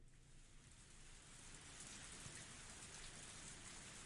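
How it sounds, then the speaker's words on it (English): Steady heavy rain pouring down in a scene from the visual novel game Higurashi When They Cry, a dense continuous hiss of downpour throughout, fairly close and unbroken, with no voices. "I waited for God to do something while the rain poured down on me."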